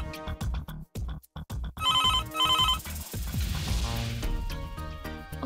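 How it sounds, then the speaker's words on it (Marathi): A telephone rings in a home amid loud background music, its repeated ring bursts sounding twice in quick succession over the music, with no talk. "रिंग तर वाजत आहे, पण आई फोन उचलत नाहीये"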